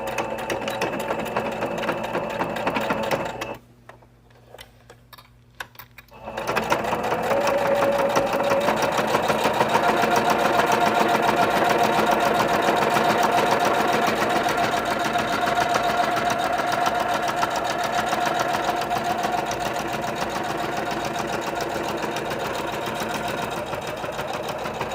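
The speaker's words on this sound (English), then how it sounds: "so I'm going to start sewing" A sewing machine stitches a half apron in a steady, continuous whir, with a roughly three-second pause early on before the stitching resumes and runs evenly to the end.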